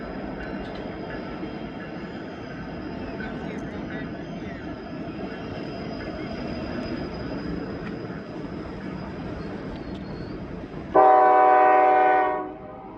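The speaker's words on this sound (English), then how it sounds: "Choo-choo!" A passing train rumbles steadily for several seconds before a loud, tonal horn blast rings out close by for a second or two, then cuts off.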